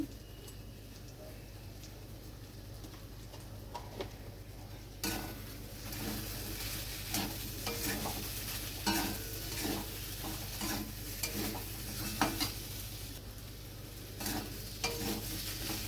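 Spice masala with turmeric and salt frying in a pan for a fish curry, a steady close sizzle with repeated spatula stirs and scrapes that grow busier partway through.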